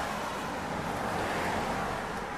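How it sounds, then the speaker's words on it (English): Steady broadband rush of a river flowing alongside a roadside walk near the Nantahala, constant and fairly close with no breaks or voices. "So how is it that the river is flowing that way?"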